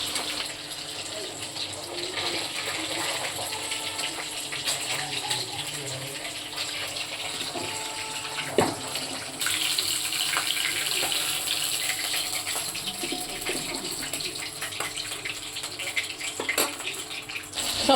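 Hilsa fish pieces coated heavily in turmeric fry in hot oil with a continuous sizzling hiss, broken by occasional sharp crackles and pops throughout.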